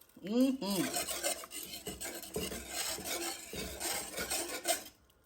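A spoon scrapes and stirs onions through a thick pot of kaleve pisupo, giving steady rasping, rubbing strokes up close, quiet and continuous with a short metallic clink at the start.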